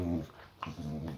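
Boxer dog resting with a muscle injury gives a short, low growl mixed with a whimpering whine, close and fairly quiet, in a brief burst.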